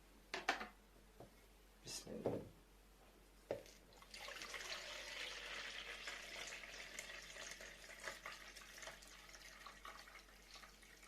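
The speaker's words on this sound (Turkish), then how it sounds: "bu suyu komple dökeceğim" Water is tipped out of a container and keeps pouring in a faint, steady splashing stream for several seconds, following a few soft knocks and handling sounds.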